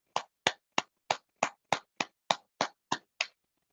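About eleven evenly spaced, sharp claps ring out one after another at a live program welcoming participants, each crisp and distinct with short gaps between them, sounding more like a few people clapping in rhythm than a full audience.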